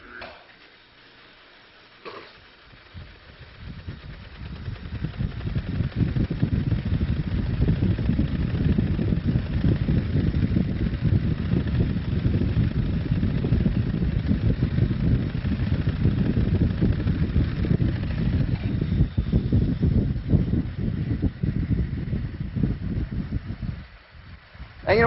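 A gyroscope wheel in a physics lecture hall is spun up, a low rumbling whirr building after a few seconds and holding steady and loud for about twenty seconds before dropping away.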